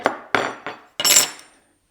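A metal wrench clinks and knocks against the nuts while a Mirrix Chloe 10 inch loom is assembled, four sharp close taps followed by a brief scraping rattle, no talk.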